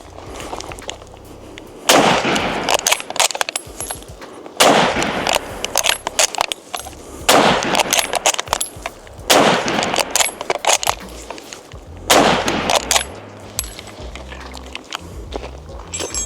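A rifle fired in rapid volleys, five or six sharp bursts of quick cracks spaced a few seconds apart, loud and close.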